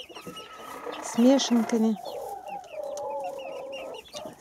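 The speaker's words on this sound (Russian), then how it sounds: "Цыплята хорошо растут, выклевывают травинки из сена и растут." Winter chicks in a coop cluck and cheep in several bursts, nearby and fairly loud, with someone speaking over them.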